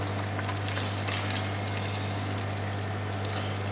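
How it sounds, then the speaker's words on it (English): Stroganoff sauce with cream boiling hard in a pot, a steady, dense bubbling roar with a low constant hum beneath, loud and close throughout with no talking. "the liquid in the bottom of this pot is boiling away quite hard"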